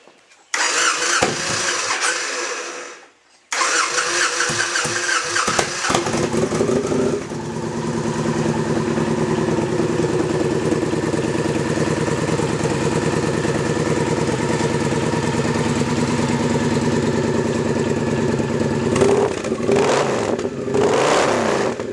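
Victory motorcycle with swept pipes in place of the stock exhaust, the factory exhaust also modified with drilled holes: the engine cranks and catches, then settles into a loud, steady, throbbing rumble with brief revs near the end.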